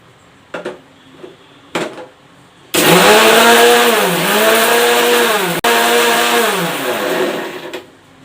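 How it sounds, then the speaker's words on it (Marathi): A mixer grinder grinds roasted spices into powder, a few short pulses followed by a long loud whirring run whose pitch dips and rises as the load shifts, then a brief stop and restart. "थोडंसं थंड झालं की याची मिक्सरमध्ये पावडर करून घ्यायची आहे"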